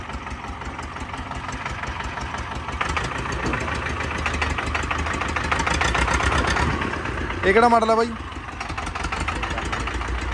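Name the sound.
tractor engine idling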